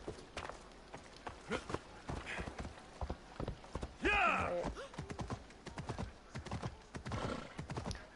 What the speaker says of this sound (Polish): Jest! Piękny konik.